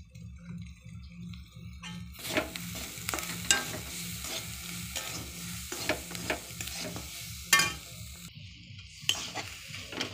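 Curry leaves sizzle in hot oil for a masala dosa filling, starting with a quiet hum and then a sudden close crackling burst. The sizzle continues with spatters and utensil clinks.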